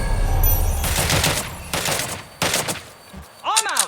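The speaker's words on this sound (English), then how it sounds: "They're shooting!" Bursts of automatic gunfire in the video game Watch Dogs Legion, loud rapid volleys in several clusters with game effects and a rising synthetic sweep at the end.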